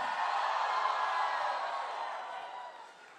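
Fans at a Malaysian meet-and-greet event for the film Thug Life with Kamal Haasan and Trisha cheer in a steady, distant crowd roar that holds and then tapers off slightly toward the end.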